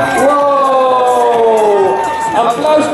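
A crowd cheers at a school sponsored run, with a sustained, loud mass of whoops and shouting from children and adults throughout, plus a siren-like wavering tone.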